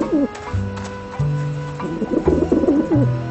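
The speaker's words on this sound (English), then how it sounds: "Ah, the pigeons obviously like this dish vent." Pigeons coo repeatedly around a dish vent in the adventure game Grim Fandango, their low throaty calls rising and falling in a steady overlapping chorus, close and clear, with no talk over them.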